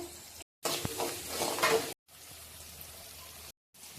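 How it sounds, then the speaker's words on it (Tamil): Onions sauté in oil in a pan with a quiet, steady sizzle and some brief scraping and stirring clatter, broken by short silent gaps. "ஒரு 10 நிமிஷம் அந்த எண்ணெயிலே வதக்கி விடுவோம்."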